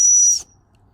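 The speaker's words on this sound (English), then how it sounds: "emergency whistle." An emergency whistle built into a survival pocket knife gives a single short, shrill blast close to the listener, lasting under half a second before it cuts off into silence.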